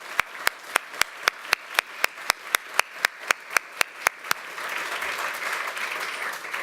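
An audience applauds teachers being honoured at a presentation: a steady run of sharp, evenly spaced claps gives way to a broad, sustained wash of crowd applause.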